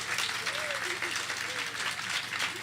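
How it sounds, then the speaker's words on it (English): A bookstore audience gives steady, dense applause after a PEN author panel at Greenlight Bookstore, sustained and fairly close throughout, with voices faintly mixed in. "if you'll join me in a round of applause for our panelists"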